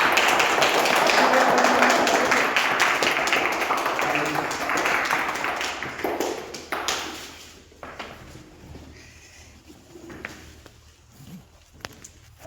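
At a direct-selling network marketing meeting, an audience welcomes the upline with loud, dense applause that gradually thins out over about seven seconds, after which scattered claps and a man's speech follow.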